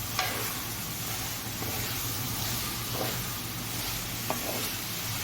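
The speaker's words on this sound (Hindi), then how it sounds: "बस प्याज को आप भूनेंगे 5 से 7 मिनट के लिए" Onions frying in oil in a pan over a normal flame, a steady close sizzle with occasional stirring scrapes and clinks, no voices over it.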